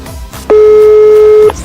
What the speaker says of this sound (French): Une sonnerie, deux sonneries.